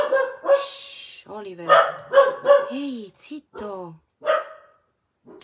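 A dog barks repeatedly at close range in quick, loud bursts while someone speaks over it, trying to quiet it in an indoor room.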